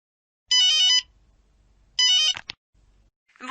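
A telephone rings in two short electronic bursts, each about half a second long and spaced about a second and a half apart, followed by a click as the call is picked up.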